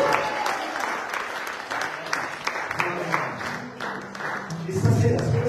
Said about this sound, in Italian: Fai un applauso al Signore.